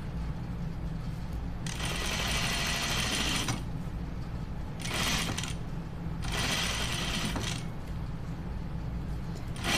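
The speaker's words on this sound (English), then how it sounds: "I'm just going to do a French seam here." A sewing machine stitches a French seam on a dress, with three loud, steady bursts of running of a second or two each, separated by brief pauses of quieter background.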